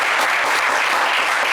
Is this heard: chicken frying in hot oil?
no